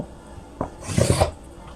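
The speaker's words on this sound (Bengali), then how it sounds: "সোজা করে আমি আগে দাগ দিয়ে নেব" Short scraping strokes of a marker being drawn across fabric to mark a straight cutting line for a skirt or palazzo, close and brief, with no talk.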